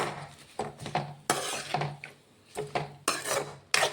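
A spoon scrapes and stirs chukkakura greens frying in a pan, giving repeated metallic clinks and rasping strokes in an uneven rhythm, close and moderately loud, with no voices.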